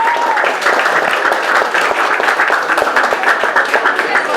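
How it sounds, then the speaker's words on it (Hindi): Loud, dense applause from a group of students at a coaching class in Sion, sustained and close throughout without a pause. "तालियों की गुंज कमी नहीं होनी चाहिए।"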